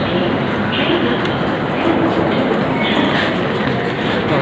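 Train at a busy Indian railway station where the Rajdhani Express stands waiting, a loud steady rumble and wash of platform noise throughout.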